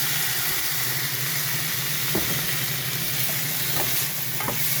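Tomatoes sizzle steadily in a hot frying pan during cooking of adobong sitaw with garlic and onion, with a few soft spatula scrapes and taps as they are stirred.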